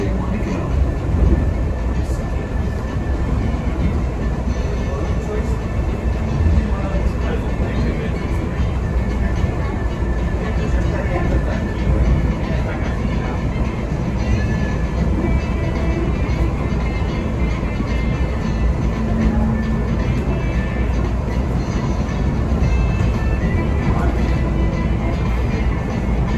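A Las Vegas monorail train rolls steadily along its track, with a continuous loud rumble and rattling heard from inside the car and occasional faint background sounds.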